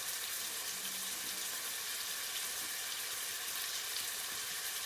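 Potatoes and cauliflower sizzle steadily in a pan for an aloo gobi handi, a constant bright hiss of frying with no breaks, moderately loud and close. No one speaks.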